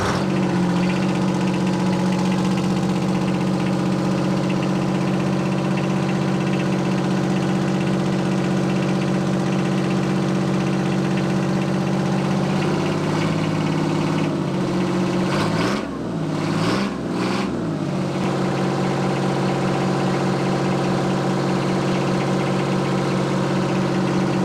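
A Detroit diesel engine in a squarebody-based tank idles loudly and steadily, a faint high pitch from a leaking exhaust gasket riding over the low rumble, with a brief dip in the drone partway through.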